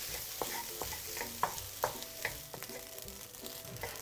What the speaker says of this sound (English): Just fry them a while until they are a little bit dry.